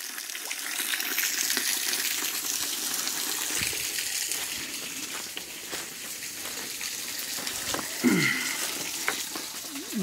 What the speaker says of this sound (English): This whole cliffside got water dripping throughout it.